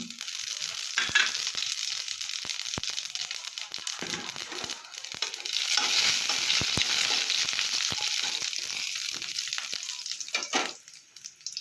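Whole spices and a dried red chilli tempering in hot oil for a mixed vegetable dish, a crackling sizzle with sharp pops and spatters, moderately quiet and close.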